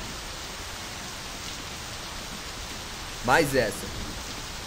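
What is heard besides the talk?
rain falling in video game My Summer Car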